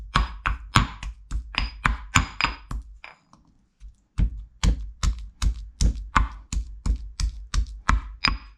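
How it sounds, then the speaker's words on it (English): Garlic and pepper pounded in a mortar, sharp regular thuds about two per second, close and distinct, with a short pause partway before the rhythmic pounding resumes; no talking. "we're gonna pound our garlic and pepper in this order here"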